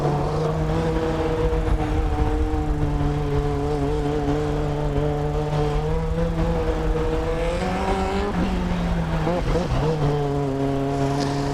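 A Formula Student race car circles a skid pad, its engine holding a steady sustained whine near and loud, with pitch dips and brief wavering around the late turn.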